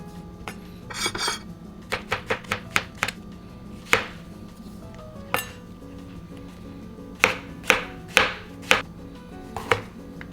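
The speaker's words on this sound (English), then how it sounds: "Chop them finely." A kitchen knife chops shiitake mushrooms finely on a cutting board, sharp taps coming in quick bursts and then as separate spaced strokes, close and clear, with faint clinks of utensils in between.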